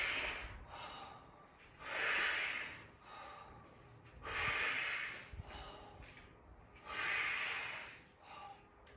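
Slow, deep breaths are taken while holding a squat during a fascia exercise. Three long, hissing exhales come at steady intervals, close and fairly quiet, with softer inhales between them and no talking.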